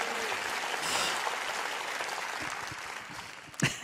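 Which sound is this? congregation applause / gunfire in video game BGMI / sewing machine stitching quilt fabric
congregation applause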